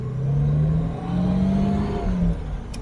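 A modified Jaguar E-Type V12 pulls away in first gear, its engine and exhaust giving a loud, smooth droning rise in revs, a brief dip as it shifts, then climbing again, heard close from the cabin.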